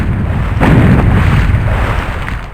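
Video game explosions tearing through fully destructible terrain and leaving craters, heard as a sustained, loud low-frequency rumble and blast that swells after a brief lead-in and then slowly fades, with no talk.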